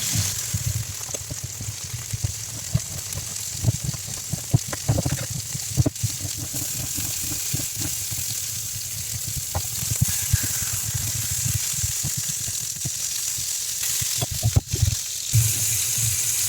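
Pork pieces frying in a pan with a steady, dense sizzle and crackle that runs throughout, spitting pops scattered over a low bubbling bed, close and fairly loud with no talking.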